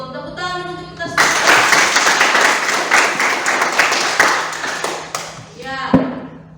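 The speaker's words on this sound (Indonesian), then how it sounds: "Tepuk tangan untuk kita semua." Classroom applause after a lesson on soap making, a burst of clapping from a group of students lasting several seconds, with a voice before and after it.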